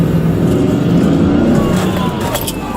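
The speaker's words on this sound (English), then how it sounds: "he backs up into a waiting trooper's car while another plows into him from the front" Car chase ending as a fleeing car backs into a waiting state trooper's cruiser while another police car plows into it from the front; a loud, continuous engine roar and road noise fill the scene with a sharp crunch near the end.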